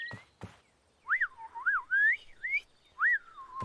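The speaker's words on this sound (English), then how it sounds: "that's a funny wobbly whistle" A wavering, wobbly whistle rises and falls in several short phrases, after a couple of soft knocks, close and fairly quiet.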